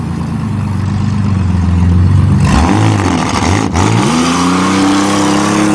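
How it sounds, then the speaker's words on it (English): A turbocharged 1994 Chevrolet Cavalier engine revs hard, climbing through sharp rising sweeps, dipping briefly, then surging again to a sustained high, loud throttle blip, close by with no voices. "Turbo! Gotta love it."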